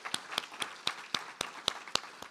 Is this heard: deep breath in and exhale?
no